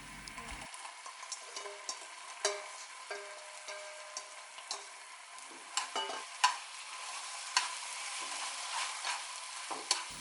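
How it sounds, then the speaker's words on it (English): Mayo-coated dried pollack stirred into a sauce with sesame oil in a pan for Korean banchan, giving a soft steady sizzle with scattered sharp scrapes and clicks of a utensil stirring throughout. "Add the mayo-coated dried Pollack to the sauce and cook for about a minute"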